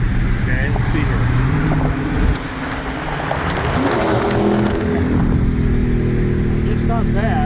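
A Ford Mustang's exhaust rumbles loudly while driving through an underpass, a continuous close engine and road roar with a brief surge midway, with traffic noise around it.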